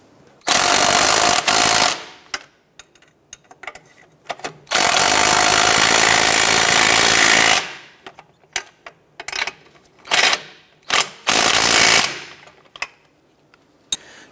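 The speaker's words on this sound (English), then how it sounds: "let's go ahead and snug these nuts down." Power tool tightening strut mount nuts on a 2006-2013 Chevrolet Impala, heard as several loud, sustained whirring bursts of two to three seconds, followed by a string of short, sharp rattling blips with brief pauses between them.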